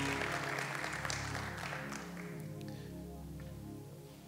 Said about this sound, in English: Let's give a round of applause for our amazing choir one more time.